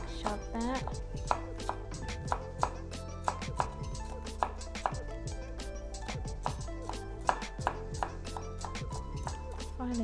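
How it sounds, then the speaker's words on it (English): Knife chopping seeded red chilli on a board, a steady run of sharp, close taps repeating through the clip over soft background music, with no talk. "Finally chop chili in the bowl."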